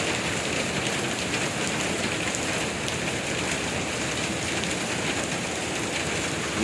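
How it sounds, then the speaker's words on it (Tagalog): A downpour drums steadily on surfaces nearby, a thick constant wash of rain that never lets up. "Grabing ulan guys."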